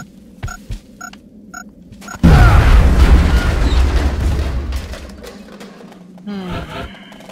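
In XCOM: Enemy Unknown, a few sharp, spaced gunshots lead into a sudden, loud explosion whose deep rumble slowly fades. Further clattering combat noise follows near the end.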